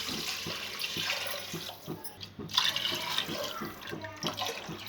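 Water poured from a cup into a pot of rice for cooking, a soft continuous splashing pour with faint rhythmic knocks underneath, fairly close and unaccompanied by talk.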